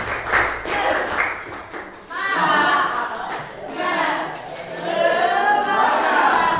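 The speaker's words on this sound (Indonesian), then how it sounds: "Silakan mungkin bisa tepuk semangat dulu supaya lebih semangat lagi." A group of children in an Indonesian classroom does a 'tepuk semangat' spirit clap, clapping together in a quick rhythmic pattern, bursts of clapping mixed with chanting voices, lively and close.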